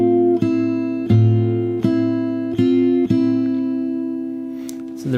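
Fingerstyle acoustic guitar plays the chorus of a song, each bass-anchored pluck ringing clearly before the next in an evenly spaced, slightly uneven rhythm, heard alone and close.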